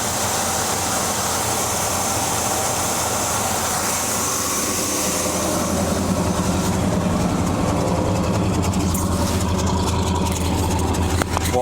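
A 1978 Chevrolet squarebody truck engine runs through its stock exhaust with a steady, low, rumbling idle that holds evenly from start to finish.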